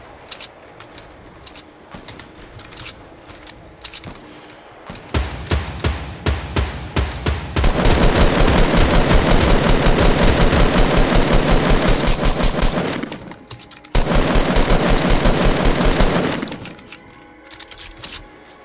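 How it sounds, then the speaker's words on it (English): Rapid automatic gunfire from a Fortnite match: dense, sustained bursts that build from scattered shots into long, loud volleys, break off briefly, then return before tapering, with no talk over them. "We're getting shot from like in all directions."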